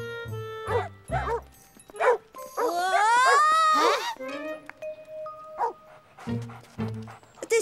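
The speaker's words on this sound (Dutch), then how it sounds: "ik laat de honden uit" Cartoon dogs barking in quick bursts, mixed with bleating-like cries and long whining tones, fairly close and loud, with voices talking in between.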